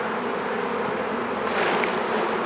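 Honey bees swarm around an open hive during an inspection, a dense steady buzz close by and fairly loud, with no voices.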